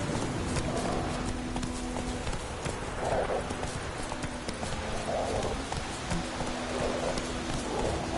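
Roach, the horse in The Witcher 3, galloping with a steady, rhythmic clip-clop of hooves under a constant background hum of game ambience, moderately loud and with no talking.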